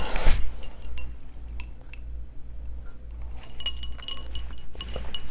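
Glasses clink in a toast over a non-alcoholic gin and pear cocktail, a bright chime near the start, followed by faint glassy taps, liquid sounds and kitchen clatter with no talking.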